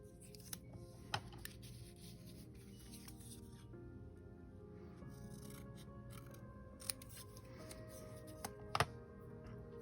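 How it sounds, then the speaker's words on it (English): Quiet scissors snip through paper squares to cut them into triangles, a few sharp isolated clicks and cuts over faint rustling paper handling. "You can just snip them down the middle to create right triangles"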